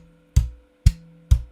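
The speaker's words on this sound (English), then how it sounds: "So one way to do it is doing dead notes," Three short percussive dead-note thumps on a slap bass, muted strings giving a clicky attack with a quick low decay, evenly spaced and played alone.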